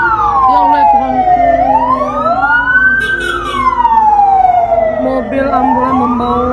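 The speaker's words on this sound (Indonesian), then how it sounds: "Mobil ambulan membawa korban ke rumah sakit." An ambulance siren wails loudly and close by in long rising and falling sweeps, with a low vehicle rumble underneath and faint voices in the background.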